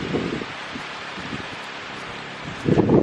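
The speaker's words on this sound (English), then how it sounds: "This is kind of a windy day we're having right now." Steady broadband whooshing of wind with soft rustling, plus low gusty rumbles buffeting the microphone near the start and end.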